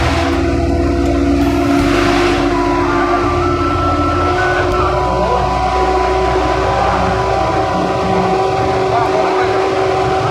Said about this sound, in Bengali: গাড়ি পাহাড় বেয়ে উপরে উঠতে অনেকটাই ব্যাগ পেতে হচ্ছে, যার কারণে ইঞ্জিনের সেই বিকট শব্দ যা অসহ্যকর